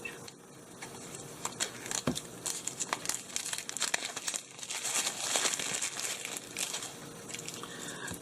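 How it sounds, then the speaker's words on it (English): Packaging for a DJI Osmo Pocket being unboxed, close crinkling and rustling with sporadic tearing and crunchy snaps, busy and uneven throughout, with no talking. "Now let's get down to unboxing this bad boy."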